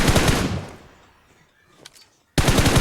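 Automatic gunfire in the battle-royale game BGMI, a loud rapid burst that trails off into a quiet pause before another burst cuts in sharply at the end.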